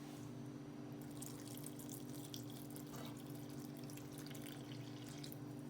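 Warm water running into a dough mixture with crumbled fresh yeast and salt, heard as a faint, continuous pouring splash over a steady low hum, with no voices.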